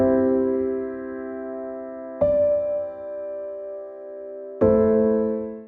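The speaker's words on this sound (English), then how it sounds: "So here is the piano." A piano plays sustained chords in a progression, three chords struck roughly every two and a half seconds, each ringing and decaying clearly and alone.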